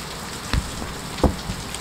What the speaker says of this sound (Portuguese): Gente, mas que chuva.